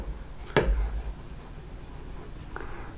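Chalk or marker writes a word on a classroom board, with one sharp tap near the start and then soft, scratchy strokes, close and fairly quiet.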